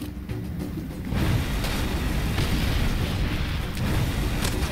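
A grenade goes off in Far Cry 2 with a loud boom and a dense rumble that sustains for several seconds. Softer thuds follow, and no one speaks.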